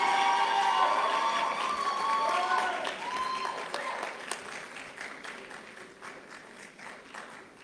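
A conference audience at an expo on the creative economy bursts into loud, sustained applause with some cheering, gradually thinning and fading over several seconds.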